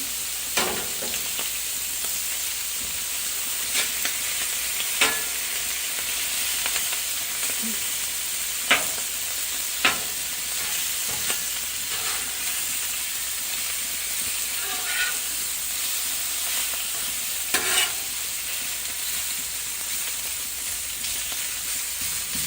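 Steady, loud sizzling of picanha steak frying in a hot pan, a constant hiss with occasional sharper pops and crackles, no talking.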